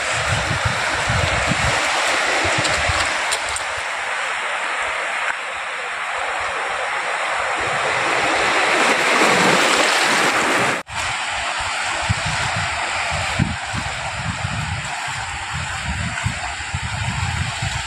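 Sea waves wash and break steadily on the shore at Gangasagar beach, a broad roar of surf with wind buffeting the microphone. The sound is close and continuous, with one brief dip partway through.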